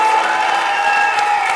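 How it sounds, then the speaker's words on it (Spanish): Studio audience applauding a guest during a Spanish-language TV interview, a steady, dense wash of clapping that holds evenly throughout with no voices over it. "Un aplauso a Marianela González."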